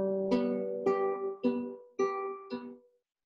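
Five guitar notes picked one at a time on open and fretted strings, each clear and close, ringing briefly before the next in a slow, even rhythm.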